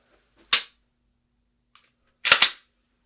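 Pistol fired at several targets: one sharp shot, a pause, then a quick pair of shots, loud and crisp with short decays and no talking.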